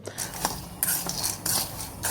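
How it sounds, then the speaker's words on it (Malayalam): Dry rattling and scraping as chickpeas are stirred while roasting in a pan, with bursts of clinking every half second or so. "കടല നല്ലോണം ഒന്ന് വറുത്തെടുക്കാം"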